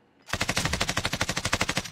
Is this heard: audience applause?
no